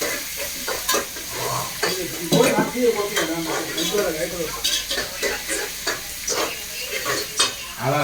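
Chicken fries in hot oil in a pan, a steady sizzle broken by repeated scraping and stirring clatter of a utensil against the metal, close and busy throughout.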